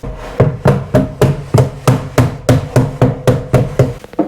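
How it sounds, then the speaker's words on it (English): A hammer strikes a piece of timber placed against a wardrobe backboard to knock out the nails, giving about a dozen loud, evenly spaced wooden knocks close by, with no talking. "I'm going to use this bit of timber with the hammer so I don't crack through with the front of the hammer"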